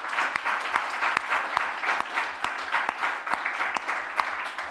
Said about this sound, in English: inviting everyone in the room to make themselves heard online in applauding